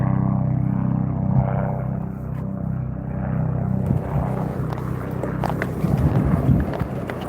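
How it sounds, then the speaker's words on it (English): A low, steady helicopter engine roar with rotor-like rumble fills the clip over an ice fishing spot in Maine, loud and continuous, swelling slightly toward the end as it passes close overhead. "Holy helicopter."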